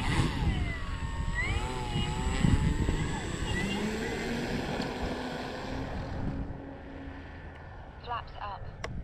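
E-flite CZ T-28 RC plane taking off with flaps set, its electric motor whining and rising in pitch as it climbs away, under wind noise and someone talking.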